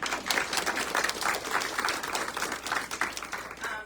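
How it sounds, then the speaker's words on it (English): Warm applause from a fashion style show crowd, many hands clapping in a dense, even patter that carries through without speech. "So she deserves a big round of applause."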